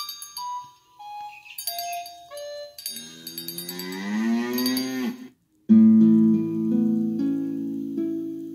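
Cattle in a pasture moo in a long, loud, wavering low call after a run of bright chiming musical notes, then another deep drawn-out moo follows.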